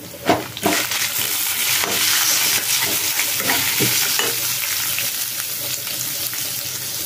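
Cumin, coriander seeds, fenugreek, dry red chillies and fresh coconut frying in a pan for sambar, a loud, even sizzle with stirring clicks and scrapes throughout.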